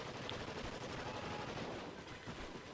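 An MTAR fired in Call of Duty Ghosts multiplayer, heard as rapid, sustained automatic gunfire with dense overlapping shots, steady and fairly loud, with no talking.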